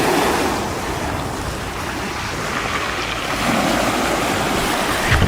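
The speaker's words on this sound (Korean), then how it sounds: "오늘 파도가 엄청 세." Strong ocean waves roll in at Taejongdae beach in Busan, a dense, roaring surf wash that swells and eases while wind buffets the microphone.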